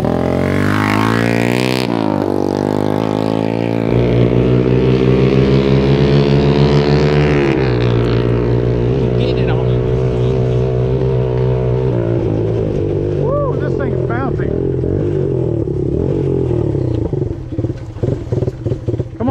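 A stuck Honda CL125 motorcycle that sat for 40 years, its carburetor needing work, idles and revs roughly, its loud engine drone shifting pitch unevenly before sputtering and cutting out near the end, with people talking nearby.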